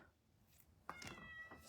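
A house cat meows to be let in, a couple of short, faint, slightly strained cries close by in a quiet room, with nothing else happening around them.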